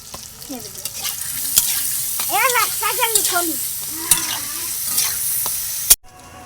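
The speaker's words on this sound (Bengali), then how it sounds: "এটা নামিয়ে নিয়ে আলুগুলো ভেজে নিই। আলু ভাজবে, লবণ দিয়েছি, হলুদ দিয়ে" Potatoes frying with salt and turmeric, a continuous sizzle under stirring and occasional sharp utensil clicks against the pan, while a voice talks faintly midway; a sudden knock ends it.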